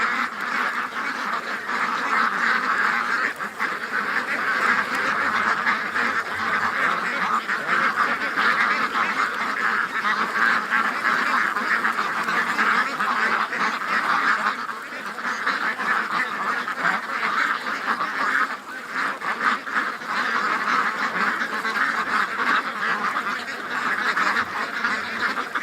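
Ducks and geese at a cleared swamp honk and quack in a dense, continuous flock chorus that holds steady and fairly loud throughout, with brief dips in intensity and no talk.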